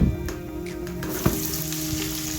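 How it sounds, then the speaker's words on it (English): Flathead catfish nuggets sizzle and crackle in hot oil in a fryer, a continuous frying hiss with small pops and a couple of clicks, close up. "And let's see them sizzle."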